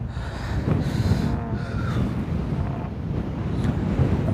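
Strong desert wind rushes between two hills in Wadi Rum, Jordan, buffeting the microphone with a steady, loud roar and low rumble across the whole stretch, with no one speaking.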